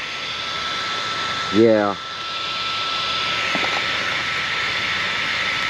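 An 1100 kV electric motor in a Losi DBXL-E RC car, geared high, gives a steady whine and hum throughout, broken briefly by a short spoken word.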